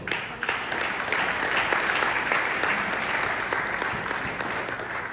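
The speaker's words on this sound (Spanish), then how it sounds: "Denle un aplauso al Señor." A church congregation claps in steady, dense applause for about five seconds, a continuous crackle of many hands at moderate distance.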